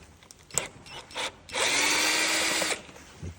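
A power drill spins up on the bolts holding a car's fuel tank, probably a Chevrolet Gentra, with a few short clicks first and then one steady, loud whir of about a second, close up and with no talk.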